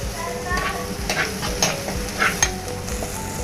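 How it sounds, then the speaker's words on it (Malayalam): Small shallots fry in hot oil for a fish curry while a spoon stirs them around the pan, giving a steady close sizzle broken by repeated scraping strokes. "നമുക്ക് ഇനി എനിക്ക് ചെറിയ ഉള്ളി ചേർത്ത് കൊടുത്ത് നന്നായി ഇളക്കി കൊടുക്കാം"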